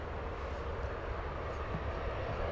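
Qantas Airbus A380 airliner moving away from Terminal D at DFW Airport, a steady, broad jet engine roar that holds level and fairly loud throughout, with no talk.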